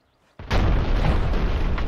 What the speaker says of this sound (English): Do we know what that explosion was?